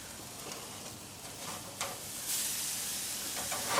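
A burger patty sears on a hot grill with a steady, close sizzle and hiss that swells slightly partway through and runs alone, with no voices.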